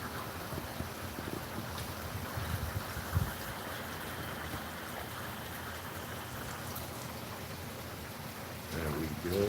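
Steady rain falling during a storm, a dense continuous hiss with scattered drops and a low rumble, holding constant throughout with a brief louder swell at the end.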